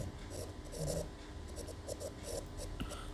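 A pen or chalk writes figures on a board or paper during a percentage maths lesson. It makes faint, scratchy strokes in short repeated bursts over a low steady background hum.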